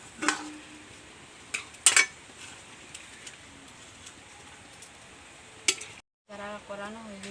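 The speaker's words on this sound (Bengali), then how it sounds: "এখন আমি ভেজে রাখা পনিরগুলো সব দিয়ে দেব" Fried paneer goes into a pan of masala with a few clinks of a spoon against metal and a faint sizzle, quiet between the knocks, followed by a brief silence and some soft noise.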